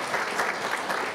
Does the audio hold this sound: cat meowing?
no